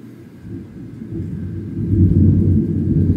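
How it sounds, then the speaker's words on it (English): Low thunder rumbles in the distance, swelling louder over a few seconds into a deep, sustained roll. "that's thunder in the background"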